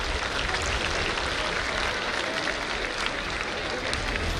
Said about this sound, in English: Welcome him with huge applause.